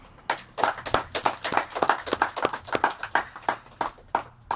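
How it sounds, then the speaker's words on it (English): Small outdoor audience at a July 4th Declaration of Independence reading in Stonington, Connecticut gives scattered, fairly faint hand clapping, individual claps distinct and irregular, with no talk. "maybe we can offer the readers a round of applause for their efforts"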